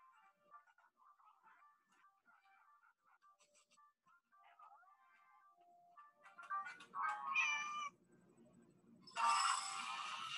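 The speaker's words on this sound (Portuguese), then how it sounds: "Olha, a gatinha derrubou a comidinha do Bidu." Cat meows in a cartoon children's story, a few rising calls after about six seconds, fairly loud and standing alone over a soft musical background.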